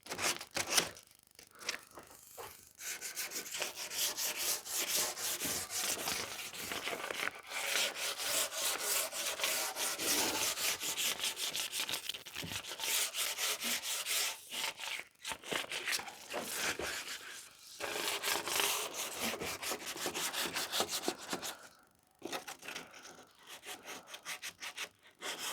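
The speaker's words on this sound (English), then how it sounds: "Not much to see, folks, just me sanding." Wooden live edge bar top being hand sanded, a steady close scraping rub with long continuous strokes and a few brief pauses, no one speaking.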